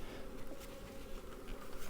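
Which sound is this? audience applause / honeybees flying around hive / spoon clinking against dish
honeybees flying around hive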